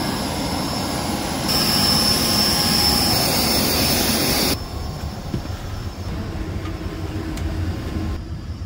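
A loud, steady jet engine roar fills the cabin on board a passenger airplane, then drops to a lower, softer rumble partway through, continuous with no talking.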